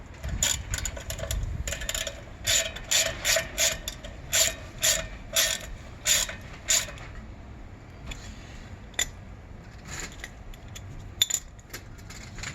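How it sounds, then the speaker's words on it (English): A torque wrench ratchets a brake retaining bolt tight on a 2011-2018 Volvo S60/V60: a close, quick run of sharp rhythmic clicks, then a few scattered clicks after a pause. "Torque wrench, put it at 26 foot-pounds to get the retaining bolt back on."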